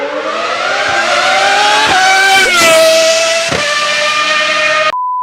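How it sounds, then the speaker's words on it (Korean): A loud, high-pitched Ferrari V12 Formula 1 race car engine screams past, its pitch rising and dropping with gear changes, then cuts off abruptly. "페라리 레이스카의 귀를 찢는 엔진 사운드는 지금도 올드 팬들에게 전설로 남아있다고 하죠"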